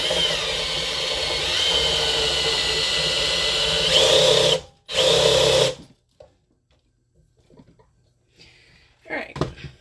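Power drill tightening a screw on a resin table, a steady close whirring motor run that revs up, briefly stops and restarts, then cuts off leaving faint handling sounds and a short voice at the end.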